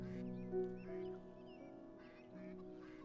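Ducks quack in a Stonehearth game scene, a few short calls over a steady bed of game music and ambience, fairly faint and with no talk.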